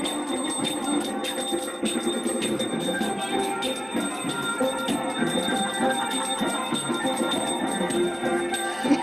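Bells ring continuously in the background, a bright sustained metallic tone with repeated strikes, heard under people chatting.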